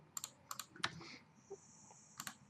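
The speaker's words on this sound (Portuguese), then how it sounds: "digitei alguma coisa" Someone types on a computer keyboard nearby, a handful of soft scattered keystrokes with pauses between them, quiet and alone without talk.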